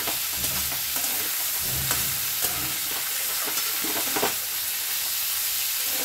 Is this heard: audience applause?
no